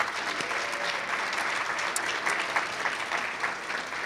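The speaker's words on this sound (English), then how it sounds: "Please, a round of applause for all of those folks." A festival audience applauds its committee members with dense, steady clapping that holds at an even level throughout, with no voices standing out.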